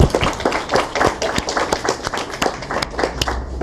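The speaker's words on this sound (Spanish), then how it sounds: "Agradecemos al profesor con un fuerte aplauso." Scattered, uneven clapping from a lecture audience thanking a professor after a talk on Marxism in Peru, individual claps distinct and fairly close, rather sparse and irregular.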